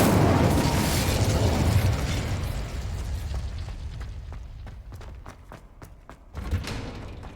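An Incendio fire spell is cast in Hogwarts Legacy, landing as a loud explosive burst of flame that roars and slowly decays, with crackles and small pops trailing off and a smaller thump near the end.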